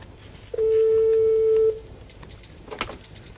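A telephone sounds in a 1994 Indonesian film scene, a single steady electronic tone held for about a second, then a brief burst of short clicks or dial tones, fairly close with faint background.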